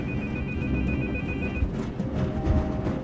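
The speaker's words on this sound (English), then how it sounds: "Whenever the phone rings, the player picks up the phone" A phone in a video game rings with a steady high electronic tone for about a second and a half over a low rumbling background, then cuts off.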